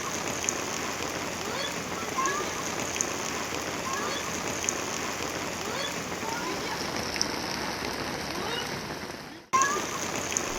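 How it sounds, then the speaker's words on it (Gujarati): Heavy monsoon rain pours down in Anand and Petlad, central Gujarat, as a steady, dense hiss of water that runs unbroken except for a brief dropout near the end. "આજે ધમધોકાર વરસાદ તૂટી પડ્યો છે"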